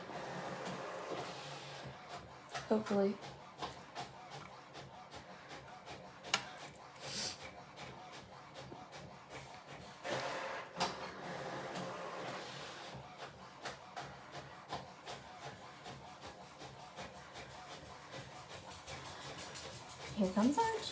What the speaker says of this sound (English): Don't mind my printer working away.